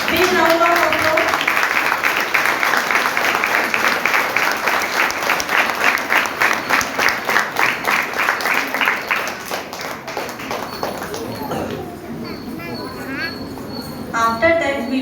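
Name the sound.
audience applause after school performance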